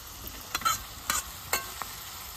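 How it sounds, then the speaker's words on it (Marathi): Onion fries in a pan, browned to a deep red, a faint, quiet sizzle broken by a few brief scraping stirs. "कांदा भाजला बघा लाल भडक"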